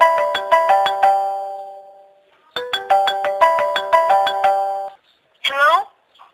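A telephone rings in repeated bursts of rapid, bright bell strikes, two long ringing sequences separated by a pause, loud and close, followed by a short vocal sound.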